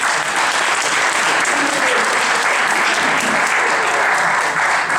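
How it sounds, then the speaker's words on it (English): An audience at a faith forum on the death penalty applauds its panelists with dense, loud, sustained clapping that holds steady throughout. "please give our panelists a loving, warm round of applause again"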